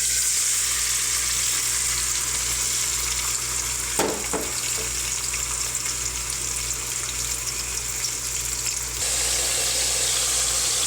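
Onions softening as they fry in hot oil in a kadhai during palak chicken preparation, a steady close sizzle holding constant throughout with a brief stir or clatter partway, no talking.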